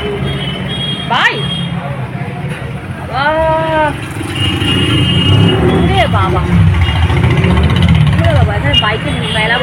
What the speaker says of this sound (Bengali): এখানে বাইকের মেলা বসেছে, কত বাইক, এত বাইক কোথা থেকে আসছে? কি বাইকের মিছিল নাকি?